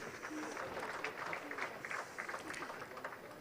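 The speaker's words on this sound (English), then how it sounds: "I thought the Nigerian Navy deserves a resounding round of applause for this." An audience at a Nigerian Navy fleet review in Lagos applauds in a fairly faint, steady patter of clapping, with a little crowd noise mixed in.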